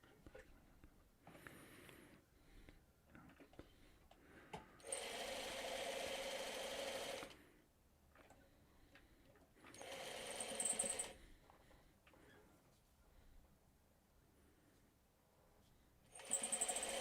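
A sewing machine stitches quilt blocks in three loud bursts of steady whirring, each a second or two long, separated by quieter handling noises and faint movement.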